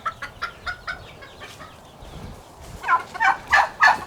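Chickens and roosters of the Breezy breed cluck in an outdoor chicken pen, a run of short rhythmic clucks followed by louder, closer calls toward the end, with no voices.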